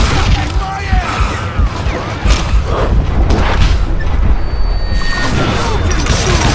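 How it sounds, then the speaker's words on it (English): Dynamite goes off in Call of Juarez: Gunslinger, a loud booming blast amid a chaotic gunfight with crashing impacts, thuds and rapid shots layered over one another throughout. "Who said you could throw dynamite?"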